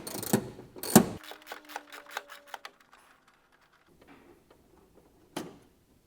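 Close-up metallic ratcheting and ticking as a screw holding a charcoal canister line mount in a car engine bay is undone, a run of quick rhythmic clicks after a couple of sharp knocks, then quiet with faint handling noise and a final tap.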